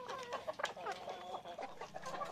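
Province-type laying hens cluck and chatter in a short, busy run of calls, moderately close, with several birds overlapping against a faint farmyard background.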